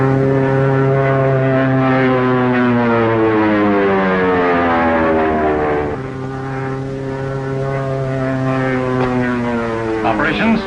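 A loud propeller plane drones overhead, its engine pitch sweeping down as it passes, then climbing again, with voices faintly beneath.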